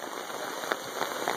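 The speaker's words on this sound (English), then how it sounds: "It's raining with the sun out." Steady rain patters on a tarp canopy over a creekside campsite on a sunny day, a dense continuous hiss broken by a few louder individual drops striking the fabric close by.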